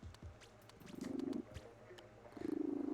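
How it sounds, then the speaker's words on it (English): A cat's soft, low rhythmic purr rises in two short bursts amid faint background noise, close but quiet. "I hear your cat purring"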